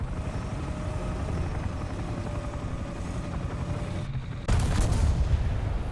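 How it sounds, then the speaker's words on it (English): Helicopter combat in the War Thunder game: a steady rotor drone fills the scene, then a sudden loud burst of gunfire erupts near the end. "am I about to witness a heli v heli battle?"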